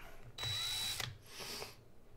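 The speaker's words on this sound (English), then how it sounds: "when we use this little drill guy" A small electric drill whirs in a short burst, stops with a click, then spins again briefly before falling quiet.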